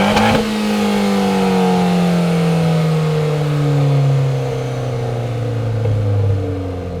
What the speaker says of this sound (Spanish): ¿Habéis escuchado cómo suena el escape?